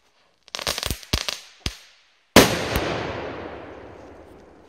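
Funke Titanblitz crackling firecrackers go off as a few sharp bangs followed by a bigger blast that trails into a long, fading crackle, heard outdoors at moderate distance with no talking.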